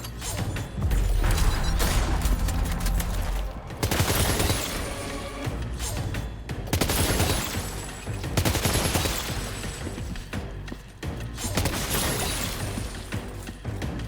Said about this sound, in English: And firearms, assault rifle